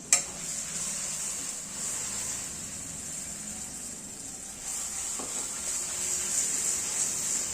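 Onion and tomato with ginger garlic paste frying in a pan for paneer biryani give a steady, close sizzle that runs throughout with a soft stirring scrape near the start, no talking.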